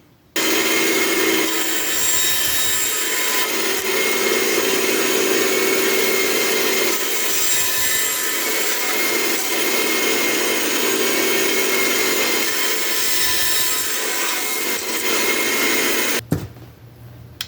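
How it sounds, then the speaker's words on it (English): Hand saw cutting PVC pipe into pieces, a steady, continuous rasping saw noise lasting about sixteen seconds, close and fairly loud, ending abruptly with a brief clatter. "let's cut up some more PVC here"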